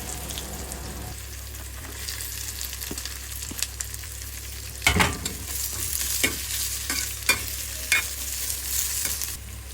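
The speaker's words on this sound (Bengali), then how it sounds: "প্রথমে কড়াইতে তেল দিয়ে দিয়েছি, এবার দিয়ে দিলাম পেঁয়াজ কুচি" Chopped onions fry in hot oil in a wok, giving a steady close sizzle broken by occasional scraping and clanking stirs, with no one talking.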